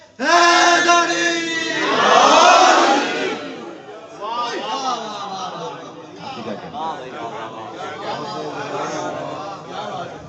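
A large religious gathering in Najaf answers a call with a loud, massed chant of a slogan. A lead voice is followed by the crowd shouting in unison, and the crowd then settles into lower, rhythmic voices.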